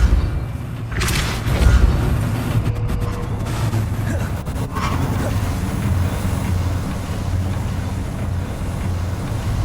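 Repulso spell cast in Hogwarts Legacy, a loud whooshing blast with a deep rumbling boom over a continuous windy, roaring game background, no voices.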